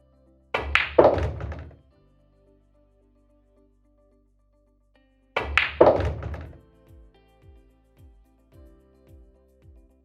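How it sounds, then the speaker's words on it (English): A pool cue plays a stun shot on billiard balls during a pool lesson: two separate sharp clacks of cue and ball strikes, close and loud, the second followed by a run of faint, quickening taps as a ball settles. "So let's do my first choice. and actually play that stun shot."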